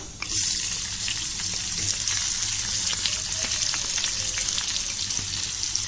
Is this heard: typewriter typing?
no